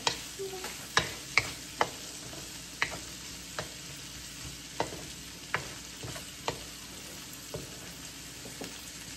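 Pancit miki gisado being stirred in a frying pan, a soft steady sizzle broken by a dozen sharp scrapes and clicks of the utensil against the pan, spaced irregularly and fairly faint.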